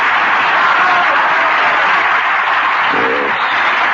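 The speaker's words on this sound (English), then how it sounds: "just listen to that applause" Theatre audience applauding a ventriloquist, a steady wash of clapping throughout with no voices over it.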